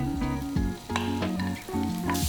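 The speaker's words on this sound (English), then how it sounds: "I'm just going to start to caramelize a little bit of this so it gives more flavors" Pork belly caramelizing in hot oil in a pan at high heat gives a loud, close, continuous sizzle with crackling pops and brief dips in intensity.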